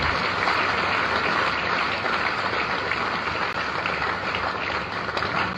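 A large audience at a defence exhibition inauguration claps loudly for Sunil Rane, a thick, continuous wash of applause that stays strong from start to finish.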